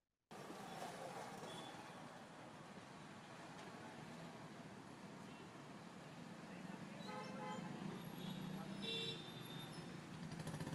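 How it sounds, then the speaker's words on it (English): A simulated car sound effect in a Unity scene plays faintly and steadily, a distant engine and traffic-like hum with a brief horn-like toot, low in level throughout. "You guys hear it? A little bit of the car sound."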